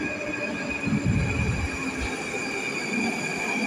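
A Moscow Metro train of the Moskva-2024 model on the Troitskaya line rumbles along with steady metallic hums and whines, wheels rolling on track, no voices.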